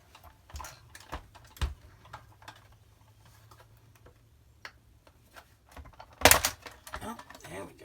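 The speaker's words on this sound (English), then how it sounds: "Now we just carefully pry the top off." Plastic top cover being pried off a Shark Ion robot vacuum: scattered dry clicks and small snaps of plastic with light scraping, quiet and close, ending in one sharper crack as it pops free.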